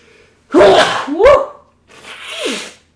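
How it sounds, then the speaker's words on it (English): A person sneezes twice in quick succession, loud and close, followed by a softer sniff or exhale, with no talking over it. "I'm going to sneeze."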